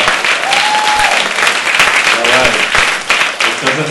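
A comedy evening audience gives sustained, loud applause, with a dense wash of clapping throughout and some voices and cheers mixed in.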